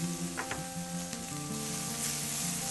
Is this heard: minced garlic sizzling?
yes